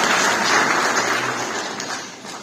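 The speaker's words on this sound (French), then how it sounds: "je crois qu'on peut applaudir le festival" Audience applause at the opening of the 21st international animated film festival FICAM in Meknes: a broad wash of crowd clapping, smooth and blended, swelling briefly and then fading away.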